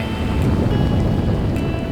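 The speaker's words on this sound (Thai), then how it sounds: "เราถูกธรรมชาติต้อนรับด้วยพายุฝนที่เรายังไม่ทันตั้งตัว" Heavy rainstorm pouring steadily in Thai mountain country, a dense, continuous roar of rain close by with no pauses or voices.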